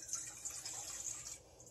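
Warm water pours into a stand mixer bowl at the start of a batch of English muffin dough, a steady close splashing gush that runs for a couple of seconds and then tapers slightly.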